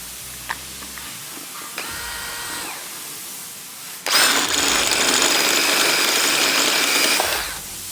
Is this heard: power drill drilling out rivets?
yes